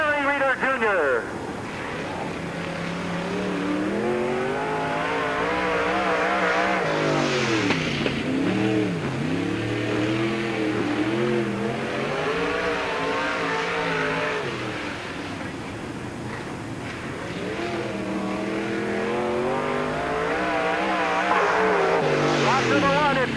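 A stock race car at Peoria Speedway, 1997 Busch 100, lapping during qualifying, its engine roaring and rising and falling steadily throughout as it passes around the oval.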